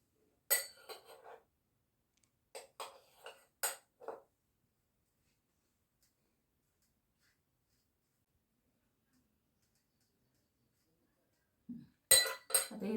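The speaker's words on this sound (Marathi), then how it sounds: "अमूल बटर आता इथे लावून घ्यायचं" A knife spreads Amul butter across bread slices for a sandwich, producing soft, close scraping strokes in a few short bursts separated by a long quiet pause, with one more burst at the end.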